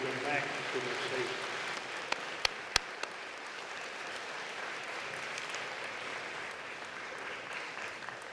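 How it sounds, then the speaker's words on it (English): Applause from an audience honoring 21 teacher award winners returning to their seats, a steady broad wash of clapping sustained throughout with a few sharper individual claps standing out. "Let's give them a big round of applause as all 21 go back to their seats."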